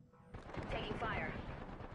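Gunfire striking the player in the battle royale game Apex Legends: a dense, loud burst of shots starts abruptly and keeps rattling, with a voice talking over it.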